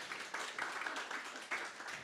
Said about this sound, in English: So applause for the speakers one more time for all of them.